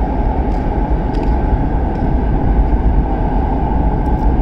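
A train runs through India's longest electrified railway tunnel, 6.7 km long, near Rapur. It makes a steady, low, unbroken rumble that echoes in the enclosed space.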